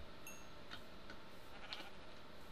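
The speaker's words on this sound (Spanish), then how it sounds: "Y una oveja por aquí, la estoy escuchando." Faint, distant sheep bleats from Minecraft come in a few short calls over a quiet game background.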